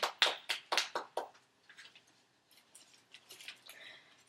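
A small mutual aid group gives a member a brief round of applause, a few sharp close hand claps that quickly fade into softer scattered ones.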